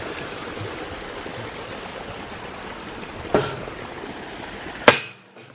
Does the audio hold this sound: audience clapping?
no